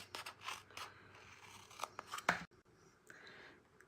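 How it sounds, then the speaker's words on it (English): Paper snips trim excess paper from a handmade split layer greeting card, giving a series of quiet, crisp cutting snips in irregular bursts, close to the microphone, with a brief louder snip near the end. "we'll just take our paper snips and trim off"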